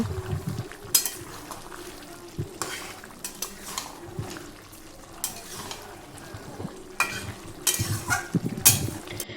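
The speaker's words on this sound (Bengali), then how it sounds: "এবার হালকা করে সমস্ত কিছু একসঙ্গে নেড়ে চেড়ে মিশিয়ে নিয়ে" A spoon stirs prawn curry with vegetables in a pan, making repeated scraping strokes against the metal over a soft, continuous sizzle.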